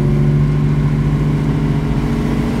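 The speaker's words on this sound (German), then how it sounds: "Das ist ein sportliches Auto, was man gut in der Hand hat, was einen tollen Sound übrigens hat" A 1958 Lancia Aurelia B20 GT engine drones steadily and loudly from inside the moving car, a continuous mid-pitched hum with no talk over it.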